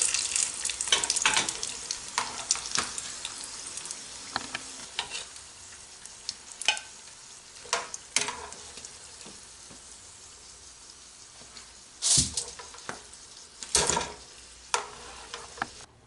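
Crispy tortilla samosas frying in hot oil, with a continuous crackling bubble and scattered sharp clatters and scrapes from turning them, close and without talk.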